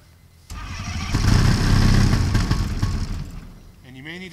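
Small Kolb ultralight aircraft engine cranking and catching on its first start, then running loud and rough for a few seconds before throttling down as a voice speaks near the end.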